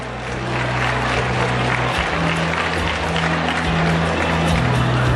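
Audience applause at a GDH 559 film press screening in Thailand: a dense, steady wash of clapping across all five seconds over low sustained tones, with no break.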